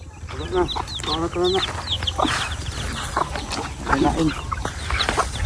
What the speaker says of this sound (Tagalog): Tapos namin pakain yung mga manok